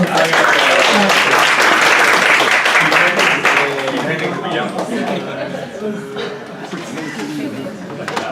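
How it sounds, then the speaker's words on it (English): An audience at an angel investor forum applauds three students, loud clapping at first that gradually thins out, with chatter and light laughter rising as it fades. "Please give a big applause to them"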